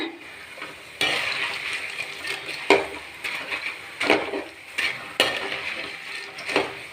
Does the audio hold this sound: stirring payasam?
yes